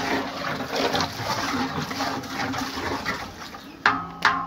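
Water poured into a large cooking pot while preparing a big batch of mushroom rice, a continuous rushing, filling sound with a couple of sharp knocks near the end.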